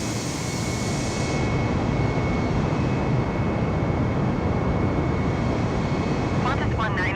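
A steady, loud roar from a simulated Airbus A320 jet engine as a Qantas flight departs Coffs Harbour in Microsoft Flight Simulator, a constant dense rumble with a faint whine that holds the whole way through.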